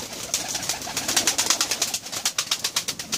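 Young pigeons around two and a half months old coo and flutter on a rooftop, giving a rapid, rhythmic run of soft pulsing calls close by, with no talking over them.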